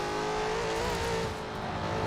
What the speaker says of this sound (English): I just already hear the tire screeching, so it's already on limit.